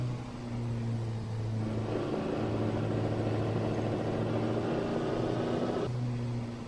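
A race car engine in the Assetto Corsa game cruises down the pit lane at Goodwood with a steady low droning hum, rising into a louder, busier growl midway before settling back to the flat idle-like tone.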